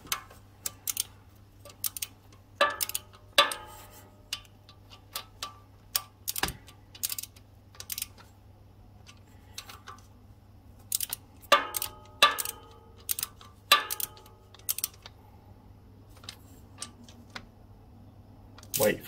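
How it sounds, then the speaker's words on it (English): Torque wrench tightening valve cover bolts on a Suzuki KingQuad ATV, heard as sharp, close clicks and ratchet ticks in scattered bursts over a low steady hum, with a voice speaking between them. "Torque wrench time!"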